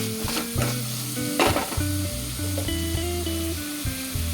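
Lightly salted vegetables for a street-style channa chaat sizzling in a hot pan while being stirred, bright frying hiss with bursts of scraping as the mix is turned, close and moderately loud.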